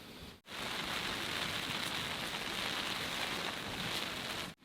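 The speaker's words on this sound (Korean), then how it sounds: "비가 살짝 오는 것 같습니다." Light rain patters steadily on a tent during an overnight summer backpacking camp on a mountain summit, a dense even hiss heard from inside, briefly broken by short pauses at the start and end.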